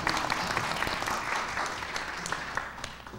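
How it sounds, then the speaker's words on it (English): An audience bursts into steady applause, dense clapping filling the whole short moment at moderate volume. "I'd like a big round of applause for Tom"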